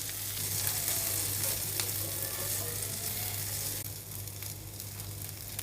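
Chicken tikka pieces sizzle and fry in a pan over a low stovetop flame, a steady close crackle that softens slightly toward the end, with no talking.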